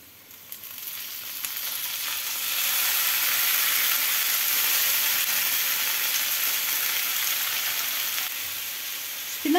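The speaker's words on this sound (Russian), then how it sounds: "И когда картошка уже готова, мы туда шпинат отправляем." Spinach and cooked potatoes sizzle in a pan with a loud, continuous, dense hiss that swells after a couple of seconds and holds steady, heard close up and alone with no voices.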